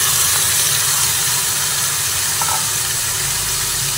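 Marinated chicken sizzling in a hot pan, a loud, constant frying hiss close by with faint scraping from stirring and no voices.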